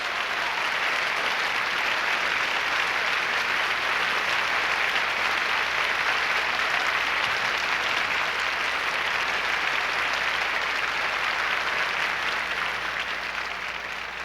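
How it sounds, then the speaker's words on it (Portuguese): A church congregation claps steadily after a closing prayer, a dense, even wash of hands that holds at full strength for about fourteen seconds with no voices over it. "Vamos aplaudir Jesus."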